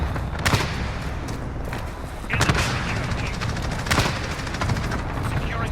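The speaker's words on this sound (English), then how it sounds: "Allied cluster strike incoming." Cluster strike and gunfire in Call of Duty Modern Warfare, a dense, continuous wall of rapid shots and rumbling blasts, with a few sharper bursts standing out.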